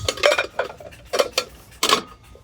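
Metal pie pans handled at a Goodwill thrift store give several short clattering clinks in irregular bursts, close and fairly loud, with no talk over them.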